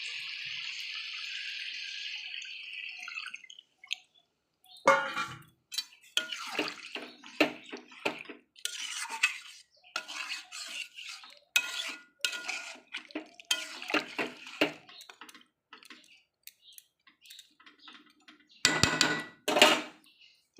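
Water pours steadily into a pot of chicken and potato curry for a few seconds, followed by scattered clinks and clatters of pots and utensils.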